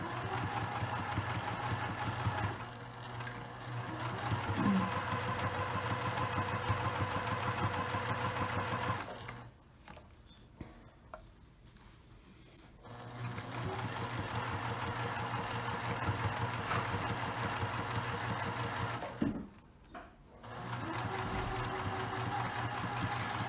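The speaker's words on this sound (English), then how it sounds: "to make sure that I am stitching the fabric straight" A sewing machine stitches fabric for a lined tote bag with boxed corners, a steady close mechanical whir and rapid needle chatter running in long stretches, broken by two brief pauses.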